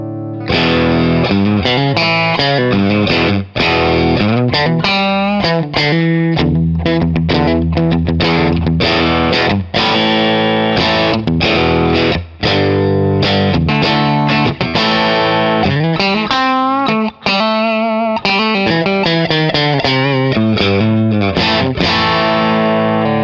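A Telecaster built into a Stratocaster-shaped body plays loud, heavily distorted chords and riffs with chorus-like effects, ringing almost without a break for over twenty seconds.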